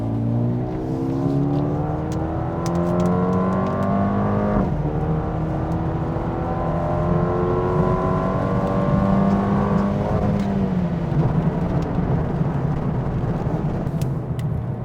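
A 2020 Mercedes-AMG A35 4Matic engine in Sport Plus mode revs and pulls through the gears, its tone climbing steadily then dropping at each shift, loud and continuous from inside or close by.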